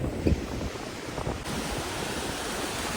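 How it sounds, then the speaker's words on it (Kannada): Sea waves surge and break along the shore at Alvekodi near Bhatkal, where a river meets the sea, forming a steady roaring wash with heavy wind buffeting the microphone. "ಇಲ್ಲಿ ನೋಡಿ ಸಮುದ್ರದ ಅಲೆಗಳು ಬಂದು ಯಾವ ರೀತಿಯಾಗಿ ಹೊಡೆಯುತ್ತಾ"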